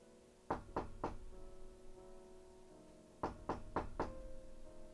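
Knocking on a room door on a November evening in 1985: two close, crisp bursts of about three and then four evenly spaced knocks, with a quiet pause between them and no voices.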